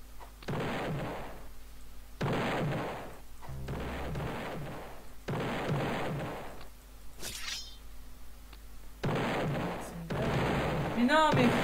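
Heavy in-game gunfire rips at towers in bursts of several seconds each, loud blasts cut by short gaps, with someone occasionally talking over the shooting.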